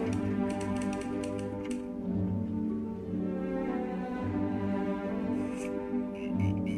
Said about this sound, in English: It's called Winston, and it's a typewriter simulator.